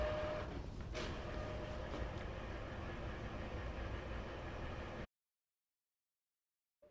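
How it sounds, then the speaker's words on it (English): An Epson ET2800 ink tank printer charges its ink, a steady mechanical whir and hum with faint clicking, running continuously before abruptly cutting to silence, no voices. "this is just charging your ink."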